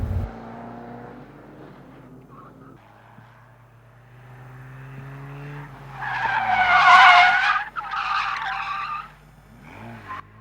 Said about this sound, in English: Basically what you're learning to do is to hold the car in a skid